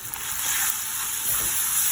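Onion with ginger garlic paste fries in a pan for potato cutlet filling, a steady close hiss and sizzle with light stirring.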